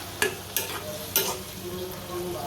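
Raw green tomatoes with small kachki fish frying in a pan, a soft continuous sizzle broken by three sharp scraping stirs near the start, moderately quiet and close.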